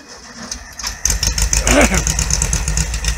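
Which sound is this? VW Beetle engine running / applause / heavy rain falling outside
VW Beetle engine running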